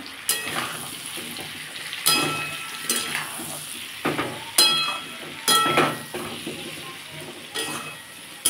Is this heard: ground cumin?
yes